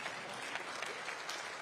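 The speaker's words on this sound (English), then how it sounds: "You're supposed to cheer at this point." Applause from a crowd at the Conservative Party Conference, steady continuous clapping filling the hall throughout, moderately loud with no talk over it.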